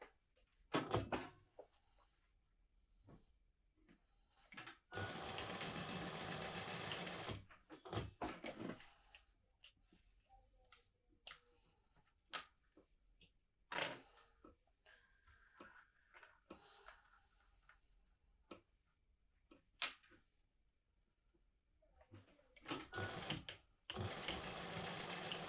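A sewing machine top stitches at an eighth of an inch, a few bursts of close, steady running broken by quiet stretches and scattered sharp clicks and handling knocks.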